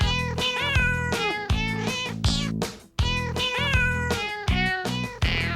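A cat meows loudly and repeatedly, a string of drawn-out, wavering cries close by with short gaps between them.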